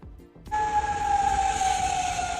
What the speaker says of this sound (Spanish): Las sirenas vuelven a sonar en Oriente Próximo